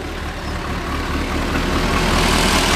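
A 1975 Chevrolet Cosworth Vega's fuel-injected 2-liter, 120-horsepower four-cylinder idles through a single exhaust, a close, steady engine note that swells slightly as it settles after firing up.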